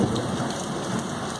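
Steady heavy rain and a low thunder rumble at night in Uruçuí during a lightning storm, a dense continuous wash of sound without speech.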